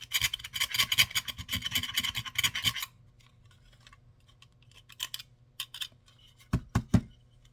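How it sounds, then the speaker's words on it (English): Burrs being filed off a small part for a model train caboose: a steady run of close, dry rasping strokes for about three seconds, then quiet with a few scattered scrapes and a short final burst. "you can just sort of file them off"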